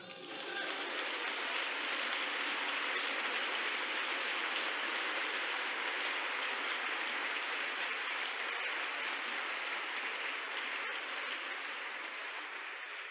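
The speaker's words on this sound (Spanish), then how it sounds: "Le damos un aplauso." Steady, sustained applause from a church congregation fills the space evenly, a broad wash of clapping held at one level throughout with no voices over it.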